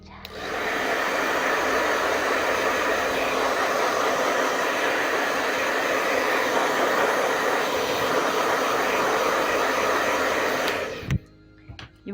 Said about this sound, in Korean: 그래서 드라이기를 한번 쓸게요